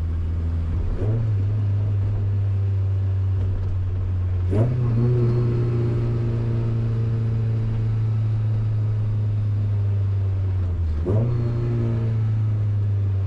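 A Mazda MX-5 under repair for its differential, manifold and brakes drives along with its engine droning steadily, the pitch stepping up sharply at each of three gear changes, close and continuous.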